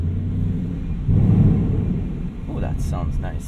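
A 2020 Ford Mustang Bullitt rumbles low while driving, heard from inside the cabin and swelling briefly midway, with a voice near the end.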